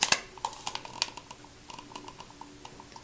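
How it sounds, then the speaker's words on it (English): Scissors pulled through an at-home scissor sharpener, giving a quick series of light clicking, ticking scrapes, close and crisp, loudest at the start and then softer and irregular. "Close and pull the scissors towards you using a small amount of pressure"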